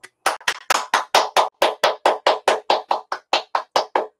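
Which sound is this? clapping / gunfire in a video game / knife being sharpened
clapping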